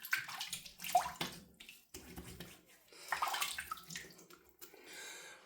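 Tap water runs and splashes in bursts to wet a shaving brush before a wet shave, close and fairly quiet, stopping and starting with brief gurgles.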